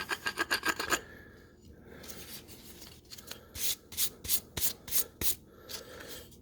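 A hand file rasps along the edges of a handmade soap dish in quick bursts of short, sharp strokes, first a rapid run, then a pause, then another series of distinct scrapes, close and fairly loud with no talk.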